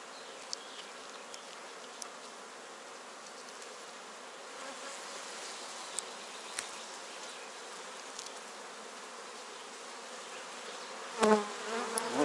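Honey bees buzzing around an open beehive while queens emerge from their cells, a steady near hum of many insects throughout with a few faint clicks and a brief knock near the end.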